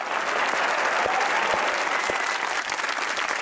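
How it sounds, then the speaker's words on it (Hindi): Studio audience applause at a Pakistani comedy talk show, a steady dense wash of clapping from many hands that fills the whole stretch at an even, fairly loud level. "बजाइए तालियां"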